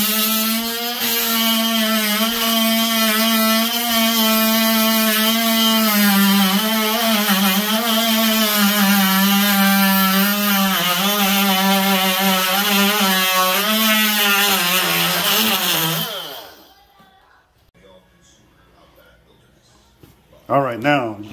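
A power tool cuts out a section of ceramic tile during a tile repair, a loud steady whining grind with wavering pitch lasting about sixteen seconds, then it stops, leaving quiet followed by a brief clatter.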